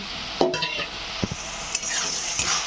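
Ground spice masala with ginger, cumin and chilli powder being fried and stirred in a pan, a close hissing sizzle broken by a few sharp clinks and scrapes, no voices.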